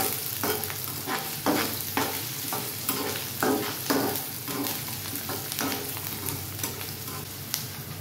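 Chillies and onion fry in a pan, sizzling close and steadily while a spoon stirs and scrapes in regular strokes throughout, with no talking.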